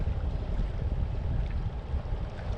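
Sailboat motoring straight into a steady 7 to 8 knot wind on an open-water passage west of Wetar Island toward Kalabahi, giving a continuous low engine and water rumble with wind noise, alone and steady throughout.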